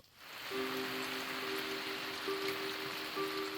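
Steady rain pattering while camping on an overland trip in northern Maine, a continuous soft wash of drops with a few faint tonal hums running beneath it.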